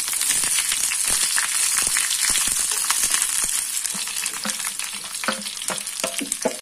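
Chopped gooseberries for a traditional pickle hit hot sesame oil with crackled mustard seeds and dried red chillies, giving a loud continuous sizzle broken by scraping, clattering spoon strokes as the mix is stirred.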